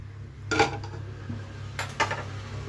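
A metal frying pan set down on a kitchen stove gives two clattering knocks about a second and a half apart, close and moderately loud, with no voices.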